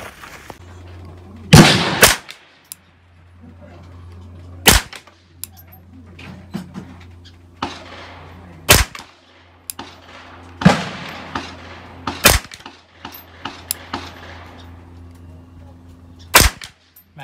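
A Ruger 10/22 rifle fitted with a barrel nut fires single sharp shots spaced a few seconds apart, loud and close, with quiet handling noise and a low steady hum between them.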